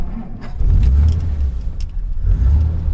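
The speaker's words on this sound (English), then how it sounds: "once the car is warm, as you can see, it starts first time" A warm 1949 Dodge with a 6-volt system starts and runs, its engine a loud, close low rumble that swells and settles in uneven surges, with some higher mechanical clatter on top.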